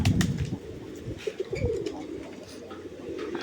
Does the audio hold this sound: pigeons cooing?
yes